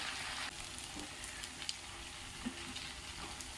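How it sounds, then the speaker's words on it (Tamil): Ivy gourd poriyal sizzles and fries steadily in a pan, with a few soft stirring scrapes and clicks over the constant close crackle, no voices. "இது 2 வாட்டி நல்லா கலந்து விட்டுட்டு"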